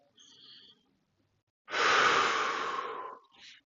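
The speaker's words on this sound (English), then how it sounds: "Take a deep breath." A deep breath taken while holding a knee-pull stretch in a senior golf flexibility routine: a faint inhale, a pause, then one loud, long, breathy exhale close to the mic, ending in a brief softer puff.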